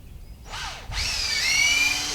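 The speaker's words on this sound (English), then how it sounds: "If I get this drill to start" A power drill in a home shop whirs up after a brief false start, then runs steadily at close range with a high whine that gradually rises in pitch, loud and alone.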